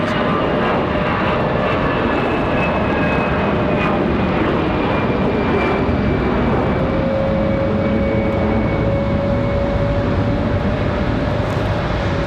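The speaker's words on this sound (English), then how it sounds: "Nice sounding departure for the A320. A319, excuse me." An Airbus A319 jet departs Raleigh-Durham airport in snowy weather, a steady broadband engine roar with a rising whine, loud and sustained throughout with no talking.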